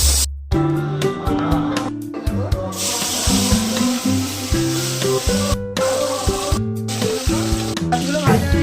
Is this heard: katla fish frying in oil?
yes